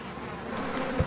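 Buzzing of an Africanized killer bee swarm, a dense, steady insect drone filling the short stretch at moderate loudness with no voices.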